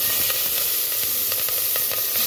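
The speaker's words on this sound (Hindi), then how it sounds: "चावल के लिए मैंने थोड़ा तेल डाला ऑयल डाला है और अब डालूंगी इसमें जीरा" Cumin seeds sizzling in hot oil in a pan for plain jeera rice, a steady close crackling hiss with small pops throughout and no talk.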